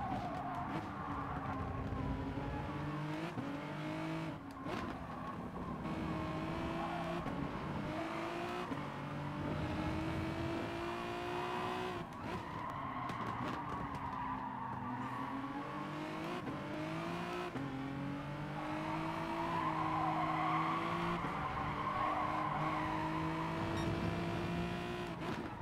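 Race car engine in GT Sport drones and shifts pitch continuously while braking, with a faint tire skid mixed into the steady, loud engine roar and no speech.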